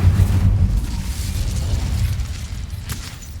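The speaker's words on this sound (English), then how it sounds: "อาจจะต้องใช้ไฟ Incendio!" An Incendio fire spell in Hogwarts Legacy erupts as a loud, rumbling blast that fades into a hissing roar, with a small sharp pop near the end.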